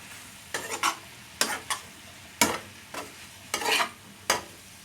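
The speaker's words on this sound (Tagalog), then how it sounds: "Haluin natin." Lightly salted vegetables for pancit bihon fry in a pan, stirred in about six separate bursts of scraping and sizzle with quiet pauses in between, close and clear.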